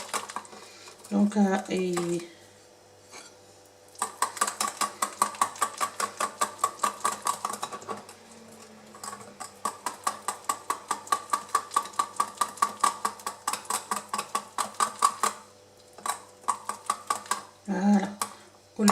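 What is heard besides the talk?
whisking batter with flour in a bowl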